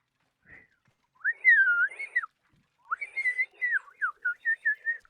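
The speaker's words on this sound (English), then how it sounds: "I can't whistle breathing outwards. I have to whistle breathing in." A person whistles while breathing in, giving a short note and then a series of wavering, rising and falling tones in separate bursts, close and clear against silence.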